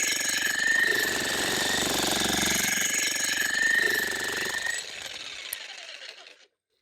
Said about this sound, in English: Now let's try the new 1800 watt Vevor jackhammer.